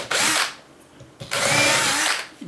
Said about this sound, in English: drill some tiny pilot holes for all your screws.